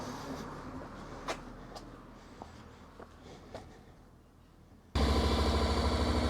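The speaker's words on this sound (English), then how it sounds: "idle, obviously it's a bit of a fast idle at the moment because it's still hasn't fully warmed up" A Honda NC750X motorcycle with its standard exhaust runs at a fast idle before it is fully warmed up. After a quiet stretch of faint clicks, the engine rumble comes in loud and steady near the end.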